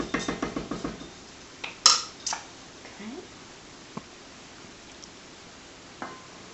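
A spoon scrapes and knocks against a pot of white chicken chili. A quick run of rhythmic clinks comes first, then scattered single taps and clatters with quiet pauses between them.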